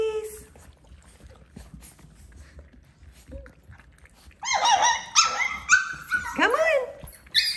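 After a quiet stretch, high-pitched Doodle puppy yips and squeaky barks break out close by, several overlapping in quick bursts.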